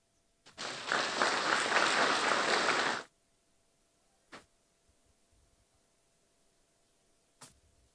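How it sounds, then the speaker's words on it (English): A formal government retreat audience breaks into applause after a speech, a burst of many hands clapping for about two and a half seconds before cutting off, followed by near silence with a couple of faint isolated knocks. "we give him another round of applause"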